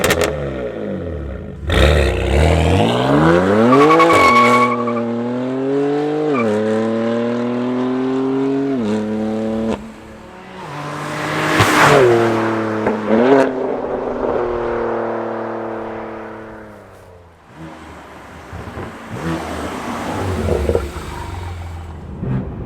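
BMW S55 engine fitted with an AA single midpipe exhaust revs and pulls through long rising sweeps, loud and near, with pops and gusts between pulls and a quieter stretch near the end.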